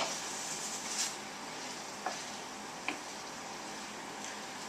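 Pork stir fry sizzles in a pan as a steady, fairly quiet hiss, broken by a few soft clicks and taps of stirring, with no one talking.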